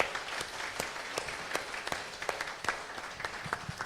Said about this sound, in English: can we have a round of applause for Alex, please?